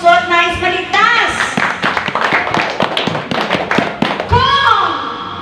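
A church congregation claps during a Filipino sermon on the Gospel, with scattered taps and claps running through the middle under a preacher's sustained voice, loud and close.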